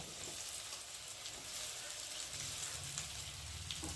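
Rice being added to a pan of fried capsicum for fried rice crackles with a faint, continuous sizzle and occasional stirring scrapes, no voices over it.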